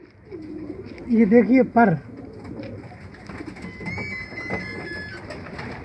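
Domestic flying pigeons coo in a close, loud burst of rolling, wavering calls, followed by softer cage rustles and faint background noise while someone talks nearby.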